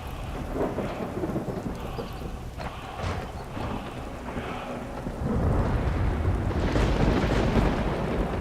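Steady rain pours through a thunderstorm in Skyrim VR, with low rumbling thunder building and growing louder in the latter half, continuous and fairly close.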